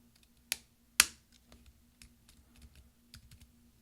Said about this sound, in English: you're going to push down until it snaps, and there's 4 snaps in there